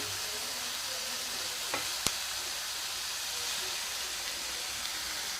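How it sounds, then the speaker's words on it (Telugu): Grated carrot and mixed vegetables roast in a pan over a low flame for a steamed momo filling, giving a steady, soft sizzling hiss with a couple of faint clicks. "ఈ ఇంగ్రీడియంట్స్ అన్నీ వేసిన తర్వాత నెమ్మదిగా కలుపుతూ లో ఫ్లేమ్లో పెట్టి స్టవ్ 5 మినిట్స్ వరకు రోస్ట్ చేయండి."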